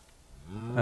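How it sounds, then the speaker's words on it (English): A cow in the Minecraft video game gives a single rising, harmonic moo that swells loud at the very end, heard alone without talk. "Oh, there was another cow."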